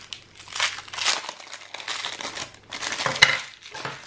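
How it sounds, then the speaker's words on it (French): Plastic and paper packaging from AliExpress parcels crinkles and crackles in bursts as it is unwrapped, close by, with a brief sharp tearing snap near the end and no talk. "on va tout déballer d'abord"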